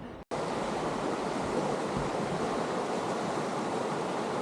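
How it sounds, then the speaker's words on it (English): Rushing river in Capitol Reef National Park, a steady, loud broadband roar of fast water heard up close, continuous after a brief cut at the start, with no voices. "This is the rushing river that we heard from the picnic area."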